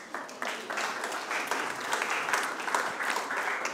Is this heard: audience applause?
yes